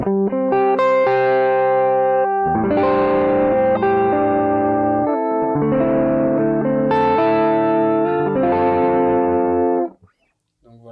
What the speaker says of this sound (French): Je monte pas beaucoup la distorsion dessus, le gain.